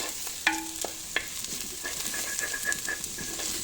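Garlic fries in a pan for tomato basil soup, a steady sizzle under repeated stirring scrapes and taps of a spoon, close and fairly quiet, with a short tonal squeak near the start.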